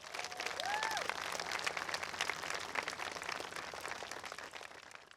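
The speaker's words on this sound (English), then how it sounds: "Please, everyone, give a round of applause to Mr. Pete Etchart" An audience at a high school groundbreaking ceremony applauds, with steady moderate clapping that continues throughout and a brief whistle near the start.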